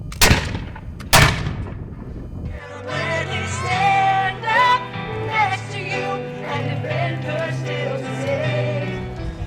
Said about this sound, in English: the Patriot Sons of Zion used black powder rifles firing the same sounds